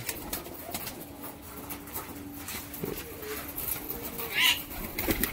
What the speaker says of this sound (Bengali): এই পায়রাগুলো উঠলো